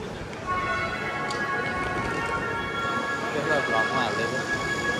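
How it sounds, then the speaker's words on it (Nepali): A train rumbles steadily nearby with a sustained high tonal whine over the noise, while voices sound faintly underneath. "एउटा ट्रेन आएको छ, ट्रेन छ, सानो ट्रेन छ एउटा"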